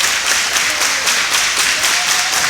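A wrestling crowd claps and cheers in a continuous loud wash of applause, with no clear pauses across the short stretch.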